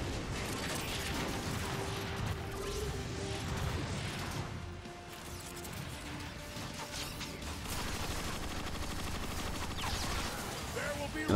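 Heavy tank cannon fire and explosions in Transformers: Fall of Cybertron, dense booming blasts and crashing debris over a continuous rumbling battle din, with no clear gaps between shots.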